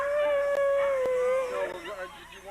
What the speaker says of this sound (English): That's when these hills come alive with the sound of huskies.